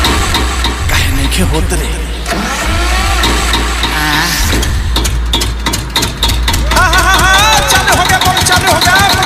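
A generator engine cranks and catches, then runs loud and steady with a mid-pitched chug, while someone talks over it up close.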